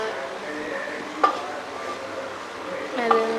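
Coconut oil and ghee heat in a large biryani pot, giving a soft, steady sizzle with a couple of sharp metallic clinks from utensils against the pot.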